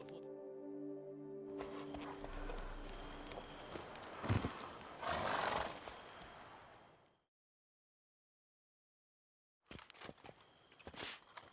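Roach, a horse in The Witcher 3: Blood and Wine, moves with muffled hoof clops and snorting over ambient game sound, followed by silence and then a few sharp clops nearby.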